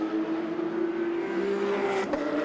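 Porsche Carrera Cup race cars howl along the Shanghai circuit, a steady high engine drone at a distance with a brief sharper surge near the end.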